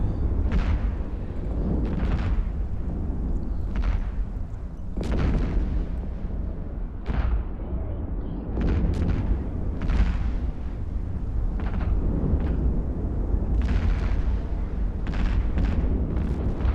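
Ship weapons fire repeatedly in EvE Online, a Tengu unleashing booming, rumbling volleys with sharp bursts, near-continuous and loud with irregular heavy impacts.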